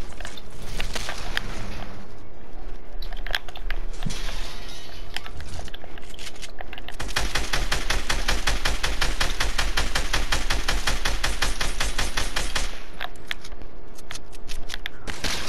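Dense rapid gunfire in the video game Fortnite during a two-versus-one fight, long close bursts of sharp clattering shots that run almost continuously with brief gaps between them.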